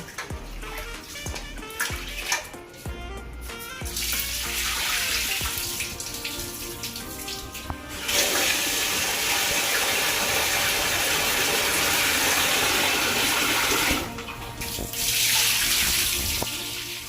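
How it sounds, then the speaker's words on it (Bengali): Rice is washed under a running kitchen tap before going into a home-style mutton biryani, the water pouring steadily and splashing loudly through most of the stretch with short breaks and no talking. "চালগুলো ভালো করে আমি দুবার ধুয়ে নেব"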